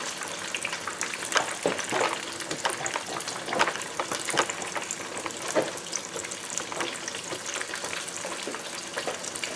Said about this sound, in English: now I'm getting ready to put the French fries in